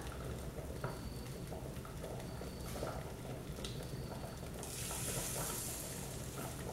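Breaded fish fillets fry in hot oil in a home kitchen pan. A quiet, steady sizzle carries scattered small pops and light clinks, then brightens into a stronger hiss near the end, with no talking.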